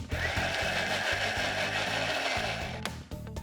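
A blender whirs steadily, blending a cheese sauce of cheese, garlic, mustard powder and cream in a kitchen, with a pulsing motor drone that cuts out briefly near the end.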